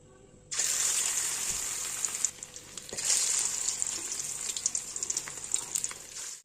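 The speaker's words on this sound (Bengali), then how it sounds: "কড়াইতে তেলটা গরম হয়ে গেছে, এবার এই ম্যারিনেট করা মাংসগুলো দিয়ে দেবো।" Marinated chicken is dropped into hot oil in a wok, setting off a sudden loud, close sizzle that stays steady with crackling pops throughout.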